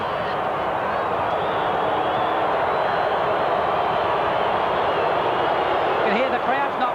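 A dense, constant roar of a large crowd at a 1984 State of Origin Australian football match, steady and loud throughout, with a commentator's voice talking over it.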